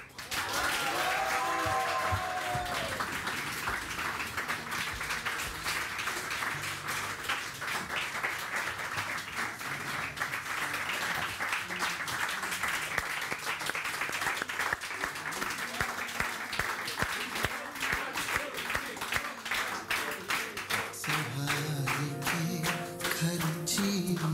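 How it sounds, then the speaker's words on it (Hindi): Sustained audience applause and clapping, loud and dense, goes on throughout, with some voices and music mixed in toward the end. "बहुत सारी तालियां होनी चाहिए"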